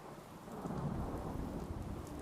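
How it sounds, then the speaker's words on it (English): Steady rain pours with a low rolling rumble of thunder during a lightning storm in the video game Fallout 4, a continuous wash of noise with no voices. "But that's a lightning storm for you."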